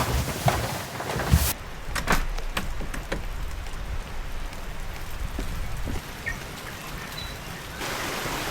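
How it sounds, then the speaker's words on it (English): Heavy rain falls as a thick, continuous drizzle around a rustic cabin, giving a dense, steady hiss of drops on surfaces. A couple of knocks or door bumps are heard early on, and no one speaks. "it's just like a thick, continuous kind of drizzle"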